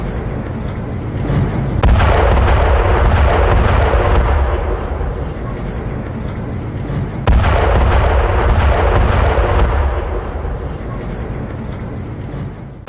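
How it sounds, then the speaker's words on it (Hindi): An Israeli airstrike bombardment hits southern Lebanon: two loud, heavy blasts a few seconds apart, each followed by a long, rolling rumble that slowly fades. "हिजबुल्लाह के ठिकानों पर भीषण बमबारी हुई है।"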